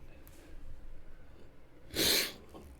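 A single sharp, wet sniff or sneeze-like burst up close, standing out from quiet room noise.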